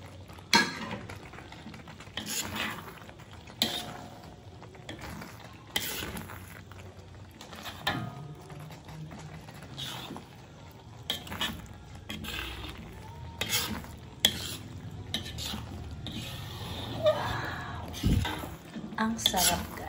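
Chili is stirred and fried into cowhide simmering in coconut milk, with steady sizzling, scraping and clinking of a utensil against the pan, broken by a few louder knocks, close and continuous with faint background voices.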